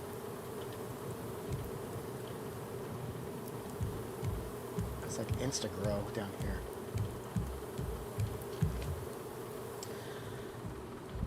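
Bees buzz steadily around beehives in the survival game Raft, a continuous insect drone sitting over the game's ambient bed while a person talks over it.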